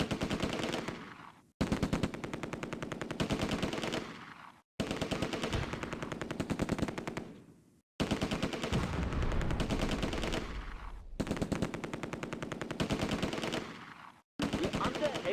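Heavy gunfire from the Close Combat game, set during Operation Market Garden: sustained machine-gun bursts and rifle shots ring out loudly, broken by short pauses, with low explosive rumble in the middle stretch.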